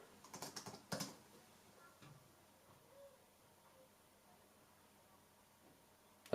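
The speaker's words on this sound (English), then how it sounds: "You can hear on the keyboard when I am doing it" A short burst of key taps on a 2007 MacBook Pro laptop keyboard in the first second, then near silence with a faint hum.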